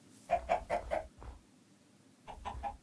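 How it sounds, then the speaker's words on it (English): Chicken in the Minecraft video game clucking in a quick burst of four clucks, then a single cluck and a short run of three more, close and clear with no talk. "Don't cluck at me, you cheeky bastard."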